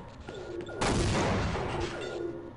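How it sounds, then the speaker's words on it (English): Explosions in the video game Half-Life, a loud sustained blast that booms and rumbles for a couple of seconds over ongoing game sounds. "And watch things explode."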